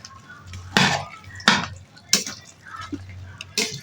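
Chicken being mixed into rice for chicken biryani in a rice cooker, with a utensil scraping and clinking against the pot in four loud, separate strokes over steady kitchen background.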